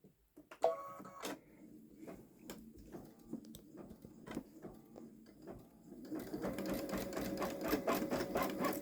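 A Babylock Solaris Vision embroidery machine stitches out a quilt design, a steady rapid mechanical whirring and ticking close by that starts with a few bumps and clicks, then thickens and gets louder for the last few seconds.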